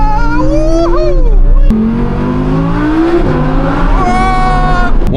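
A V10 supercar on a forest road, its engine revving hard above 6,000 RPM: a loud, close, high-pitched wail that climbs, snaps through quick gear changes and climbs again, filling the whole stretch.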